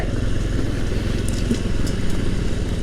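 A Honda Trail 125 motorcycle engine runs steadily at a low, even drone with a gritty rumble, close and loud throughout with no breaks.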